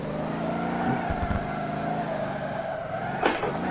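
A V8 turbo limousine in the Motor Town driving game hums steadily as it drifts, engine note holding then dipping briefly around a gear change, moderately loud and alone.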